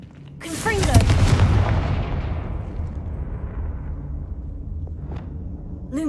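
Confringo fire spell in the game Hogwarts Legacy erupts as a loud, close blast that booms and then rumbles away over several seconds, with a few crackling bits and faint game sounds in the tail.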